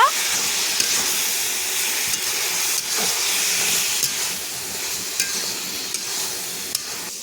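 Bottle gourd with shrimp and sugar is stirred in a hot frying pan, producing a steady close sizzle and hiss with occasional soft clicks of the spatula against the pan.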